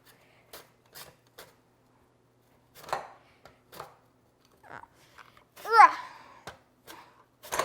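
Vegetables get chopped into pieces in a manual food chopper, heard as a series of sharp, separate clacks and crunches spaced irregularly in quiet surroundings, with a brief squeaky child-like vocal sound near the end.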